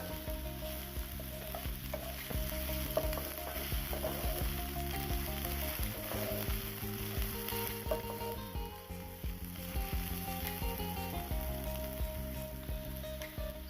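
Two small chopped onions are sautéed in a pan for a chicken roast with green peppercorns, giving a continuous dense sizzle over a faint steady tonal hum, with no voices.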